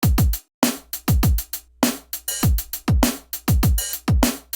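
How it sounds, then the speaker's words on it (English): A punchy electronic drum loop repeats with booming kicks, snappy snares and crisp hi-hats in a steady rhythm, over a low sustained bass tone. "you've dialed in a pattern with your kick, snare, and hats, and it sounds something like this"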